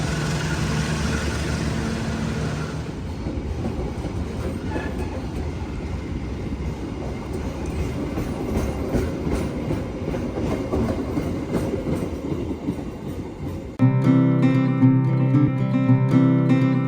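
The Brantas passenger train pulls into Blitar station at the end of a roughly 13-hour journey, with a steady rolling rumble and rail clatter that continue throughout, then a louder tonal chime near the end.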